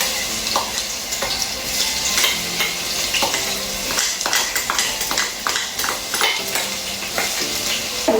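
Ginger garlic paste sautéing in a hot pan for Thalassery biriyani rice, a steady loud sizzle with repeated scraping stirs and light utensil knocks throughout.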